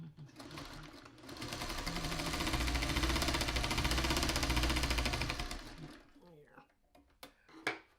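Sewing machine running steadily for several seconds as fabric pieces for a bow tie are stitched, loud and close, slowing to a stop with a few light clicks and handling sounds afterward.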